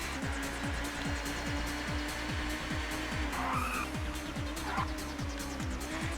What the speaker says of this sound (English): Oh, lock up the brakes, go wide.